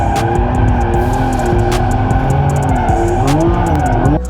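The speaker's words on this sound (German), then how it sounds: "wir werden erneut einen Lamborghini Revuelto fahren" A Lamborghini Revuelto, a 1015-horsepower sports car, roars continuously with shifting engine pitch and sweeping revs, loud and close, with sharp ticks and clicks scattered over the drone before it drops slightly at the end.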